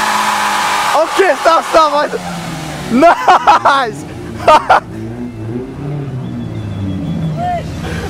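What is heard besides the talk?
car spinning its tires with the e-brake on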